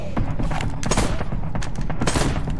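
Rapid volleys of gunfire in the horror video game Husk, loud and close, with dense overlapping shots and booms filling the whole moment.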